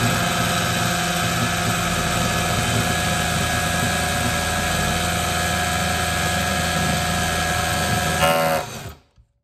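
Milwaukee M12 Gen3 hammer drill (3404-20) drilling into a workpiece on a bench: a loud, steady motor whine held for about eight seconds before winding down and stopping.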